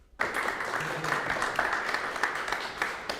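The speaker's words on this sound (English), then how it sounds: "Why are they clapping?" Audience applause breaking out in a parliamentary debate chamber during Prime Minister's Questions, a dense sustained patter of many hands clapping that starts abruptly and holds steady throughout.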